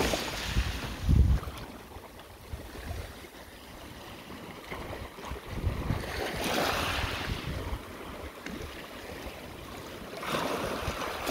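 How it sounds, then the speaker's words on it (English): Sea waves wash onto the shore at Donaghadee, Ireland, a steady rolling surf with swells building every few seconds, mixed with gusts of wind buffeting the microphone. "listen to the waves"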